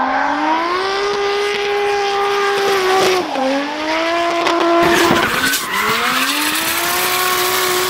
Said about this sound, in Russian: Она умеет достаточно круто ездить боком.